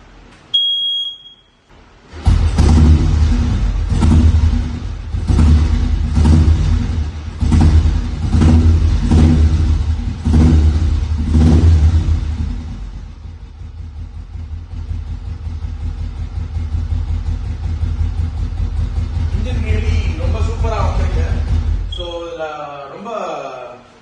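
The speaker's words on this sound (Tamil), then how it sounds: "வெஹிக்கிளோட பீட் கேளுங்க." A 2003 motorcycle converted to a classic-style build starts and idles with a loud, steady thumping beat and pulsing rhythm for about twelve seconds, then settles to a lower running drone while a person talks near the end.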